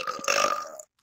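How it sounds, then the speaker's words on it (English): A single long, loud burp lasting most of a second, close to the mic, then silence, in a casual VRChat hangout. "I'm not putting that burp in my next video"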